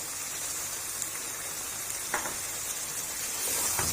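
Chicken karahi with yogurt and fresh cream sizzles and fries steadily over a high flame, a continuous close crackle with faint stirring touches and no talk.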